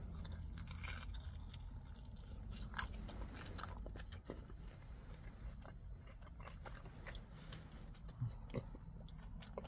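Close, quiet crunching bites and chewing of a cheese Crazy Puff from Little Caesars, a series of soft crisp snaps followed by steady mastication sounds with no talking.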